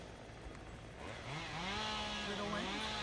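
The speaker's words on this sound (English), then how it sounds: "Chainsaw." A chainsaw cutting 3-inch branches while clearing a blocked road in Leilani Estates. The engine is faint and rises in pitch as it revs up and bites, with no talking.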